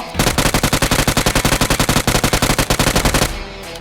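An electromagnetic gun in PUBG Mobile fires a fast, loud automatic burst of about thirty evenly spaced shots over roughly three seconds, then cuts off.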